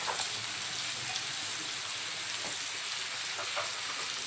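Green peppers frying with onions and chicken hearts make a steady, dense sizzle close by, a continuous hiss with scattered faint crackles and no talking.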